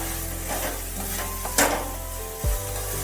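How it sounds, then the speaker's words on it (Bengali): Fried pointed gourds get tossed with spices in a pan, a soft sizzle under a constant low hum, with a spatula scrape and a clack against the pan. "ভেজে রাখা পটল এর মধ্যে দিয়ে বেশ ভালো করে একটু নাড়তে হবে, যাতে পটলের গায়ে সমস্ত মশলাগুলো চলে যায়"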